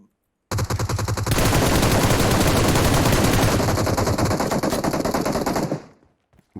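Sustained automatic gunfire in a shooter video game, a dense continuous burst of rapid shots lasting several seconds at close range, loud and without speech, ending abruptly.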